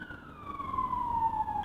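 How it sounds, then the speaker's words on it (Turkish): An ambulance siren passes by outdoors, a steady wailing tone sliding slowly downward in pitch over road noise, moderately distant. "Tam da ambulans geçti."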